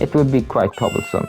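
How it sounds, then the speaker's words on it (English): Someone speaks, and a cat's meow from the video game Phoenix Wright: Ace Attorney – Justice for All sounds near the end, partly over his voice. "It sounds like a cat."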